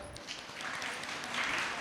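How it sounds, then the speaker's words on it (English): Applause from a school event audience of parents and small children, a brief burst of clapping filling the hall at a moderate level. "Once just clap for yourself."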